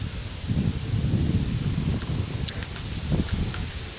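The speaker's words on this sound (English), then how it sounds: "You just hear the rustling of the trees and some birds." Trees rustle in the wind on quiet rural grounds, a continuous soft whoosh of leaves with gusting swells and occasional low rumbles of wind against the microphone, no voices.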